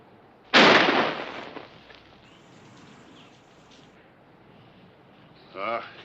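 A single loud gunshot from a handgun cracks near the start, then a trailing decay and quiet room tone before a brief later sound.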